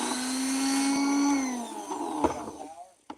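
A Dremel rotary tool whines at a high, steady pitch, then spins down and fades into scattered clicks, with speech heard near the end.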